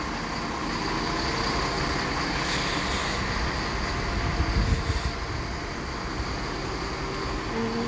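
Steady rumble of a train in Japan during boarding, a broad continuous roar of rail car and station noise with a brief swell midway, fairly loud and without talk.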